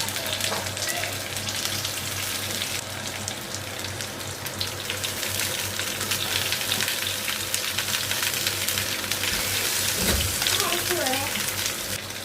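Grated coconut stirred and sautéed in coconut oil in a pan, a steady broadband sizzle and crackle running throughout with faint scraping of the spoon, close and continuous.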